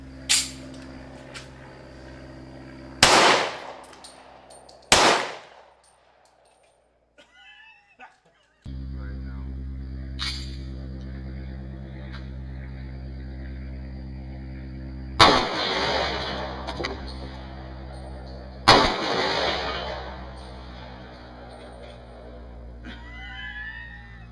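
Gunshots from a pre-war Colt .38 Super pistol firing full metal jacket rounds: several sharp, loud reports spaced seconds apart, with a steady hum between them.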